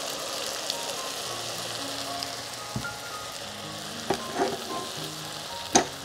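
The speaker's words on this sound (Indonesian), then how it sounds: "Ini tumis sampai bumbunya matang, wangi, udah nggak langu, nggak bau cabai." Seblak spice paste with chili sizzles and fries in a hot pan, a steady crackling hiss with occasional spatula stirs and clinks nearby.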